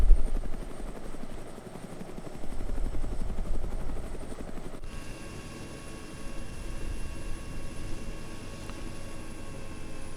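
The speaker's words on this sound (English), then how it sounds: "Just a bit of low level flying on this gorge" A Russian Mi-8 helicopter flies low through a gorge in the game Arma 3, its rotor thumping steadily with a continuous loud engine whine, the tone shifting partway through.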